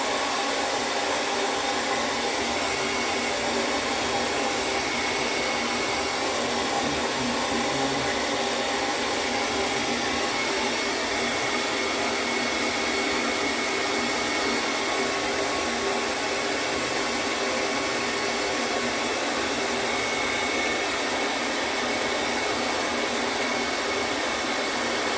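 A hair dryer blows steadily on a beard during a trim, a loud continuous whooshing hum with no break for the whole stretch.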